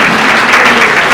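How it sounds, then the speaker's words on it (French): An audience at an award ceremony gives dense, continuous applause, loud and close, filling the whole short stretch without voices. "Des applaudissements à votre jeune talentueux."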